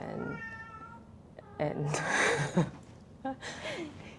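A pet cat meows several times, short rising and falling calls spaced apart, mixed in with people talking and breathing nearby at close range.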